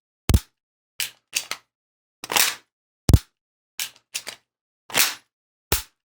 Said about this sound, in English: Insert, roll into our grip and press the trigger on a target.